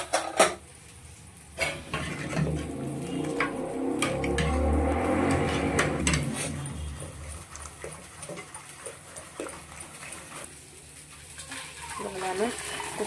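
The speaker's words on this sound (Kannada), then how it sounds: "ನಾನು ಕುಕ್ಕರಿಂದ ಬೇರೆ ಪಾತ್ರೆಗೆ ಹಾಕ್ಕೊಳ್ತಿದ್ದೇನೆ." Cooked tomato and drumstick sambar base is moved from a pressure cooker into another pot with clinking metal, scraping ladle strokes and wet sloshing, with a person speaking nearby.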